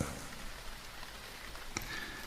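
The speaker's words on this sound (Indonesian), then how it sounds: "Suasana yang dingin, sejuk suara rintik hujan, membuatku tak lama langsung tertidur." Light rain falls steadily in a village at night, a soft continuous hiss of drizzle with a single faint drip or tap near the end.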